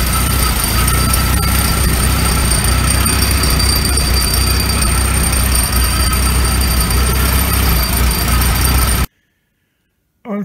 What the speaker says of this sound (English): That seems to be running pretty decent.